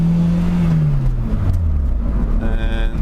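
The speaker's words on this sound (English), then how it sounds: "I haven't driven the car in a little while, so it's nice to get it out and let it breathe a little bit" A car engine winds down as the driver shifts, its pitch falling from a held rev into a lower hum before climbing again, heard close from inside the car with steady road noise.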